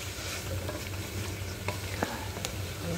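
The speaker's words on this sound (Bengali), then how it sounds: "এটাও এখন কষায় নেব," Chicken breast, about 300 grams, stir-fried in a pan: a steady broadband sizzle with low hum underneath, broken by a few sharp scrapes and clicks of a utensil against the pan, close and alone without voices.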